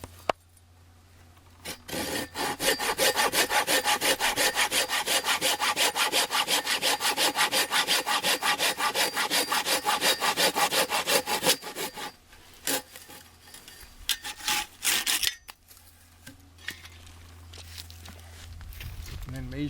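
A handsaw cuts through the end of a wooden post for a portable round house. Steady, rapid back-and-forth strokes run for about ten seconds close up, then a few short strokes and handling knocks follow, with no talking.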